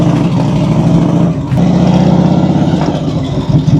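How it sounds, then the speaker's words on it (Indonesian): A 1982 Harley-Davidson Tour Glide's engine rumbles loudly and close on a test ride, a deep throbbing pulse that dips briefly and swells again as the throttle is worked. "Oke, sekarang kita nyalain dulu mesinnya."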